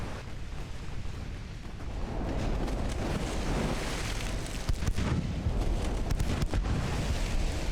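Naval guns firing from warships during a 1930 Anglo-American War battle in Ultimate Admiral: Dreadnoughts, heard as a steady roar of booming, rumbling blasts with several sharper reports in the second half, loud and continuous.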